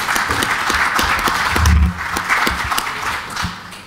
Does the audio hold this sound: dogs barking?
no